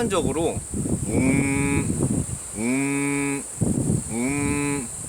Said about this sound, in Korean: 황소개구리는 턱 아래 울음주머니를 부풀려 소리를 냅니다.